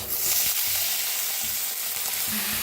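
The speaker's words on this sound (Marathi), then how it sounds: "त्याच्यात थोडंसं तेल ओतूया। तेल बी गरम झाले, त्याच्यात आपण काय करूया, पहिला आपण भोपळा भाजून घेऊया।" Chopped bottle gourd sizzles and crackles in hot oil in a pan, a loud, steady close frying hiss with a few faint stirring knocks and no talk.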